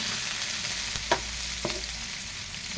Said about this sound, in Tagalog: Gisa-gisa mo lang yan.